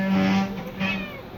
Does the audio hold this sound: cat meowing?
yes